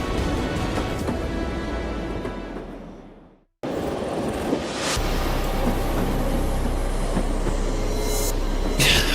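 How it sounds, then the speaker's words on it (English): A moving train gives a loud, continuous rumble and rattle that fades out briefly, cuts back in and keeps going, with faint squealing toward the end. "Thank goodness we're inside the train."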